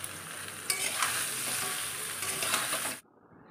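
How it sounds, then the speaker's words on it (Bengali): Mango pieces for pickle fry in a wok with a loud, dense, continuous sizzle and occasional stirring scrapes, close up, cutting off abruptly near the end into quiet. "আমগুলো দিয়ে এরপরে আমি ভালো করে একটু ভাজতে থাকবো।"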